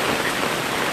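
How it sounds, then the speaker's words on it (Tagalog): Heavy rain pours steadily near the front beach on Boracay, a dense, even hiss with no pauses, close and loud throughout the short moment. "Lakas ng ulan."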